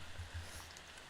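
Steady rainstorm ambience in an RPG, a continuous hiss of rainfall with a low rumbling undertone, even and unbroken throughout.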